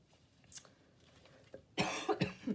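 A quiet stretch, then several sharp, close coughs in quick succession near the end.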